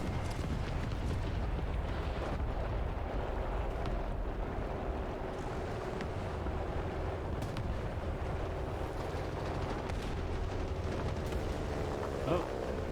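Enemy gunfire strikes near a Ferdinand tank in War Thunder: faint, scattered thuds and cracks over a constant low rumble of engine and wind.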